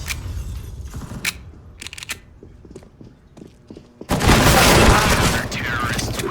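Gunfire in the game CS:GO cracks out in sharp, scattered bursts amid clicks and footsteps, then gives way to a sustained loud barrage of noise, with a voice talking over parts of it.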